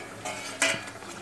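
A lid clanks onto a cooking pot of soybean nutri curry set on a gas stove at medium flame, one sharp metallic knock with a short rattle, close and fairly loud.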